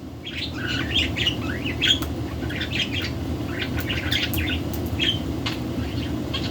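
A baby budgie chirps and squawks in quick, bright bursts close by, repeated over a steady low background hum.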